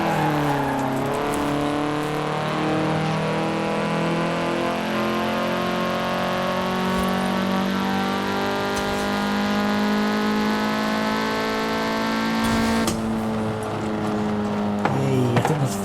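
An Audi TTS revs hard in Forza Horizon 4, its engine note climbing steadily through a long, loud pull with a brief shift-like drop near the end, heard alone without talk.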